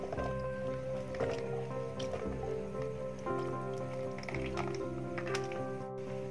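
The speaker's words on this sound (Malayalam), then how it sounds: "ഇത് നന്നായിട്ടൊന്ന് മിക്സ് ചെയ്തെടുക്കാം." Plum cake batter with dry fruits is stirred with soft, wet squishing and dripping sounds over steady background music.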